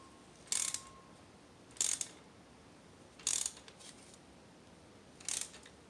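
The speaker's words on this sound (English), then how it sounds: "you're going to screw them back in there" Screwing spark plugs back into a 2010 Nissan Sentra: four evenly spaced bursts of crisp ratchet clicking, each short and metallic, separated by quiet pauses; no talking.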